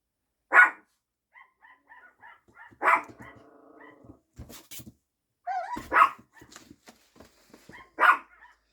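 Six-week-old dachshund puppies barking indoors, four or five sharp, high yaps spaced a second or two apart, with scattered softer whines and rustling between them and no talk.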